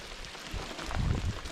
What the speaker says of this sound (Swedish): Slipper man vara ute i regnet.